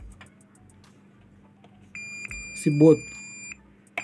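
A buzzer on a K3 Powersoft amplifier with shorted IGBTs gives a steady high electronic tone lasting about a second and a half, close and moderately loud, while someone speaks briefly.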